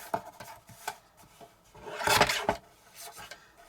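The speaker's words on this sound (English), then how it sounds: "I'm just going to trim this down so that it's nice and straight." Patterned vellum paper is trimmed straight on a paper trimmer, producing close, dry rubbing and slicing strokes in short bursts with one longer, louder cut in the middle.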